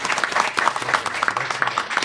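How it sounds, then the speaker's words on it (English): Audience applause for a panel at a local East Hampton discussion session, dense steady clapping from a crowd sustained throughout with no talk over it. "Keep applauding, because I'd like you to join me in thanking our panel for a great conversation"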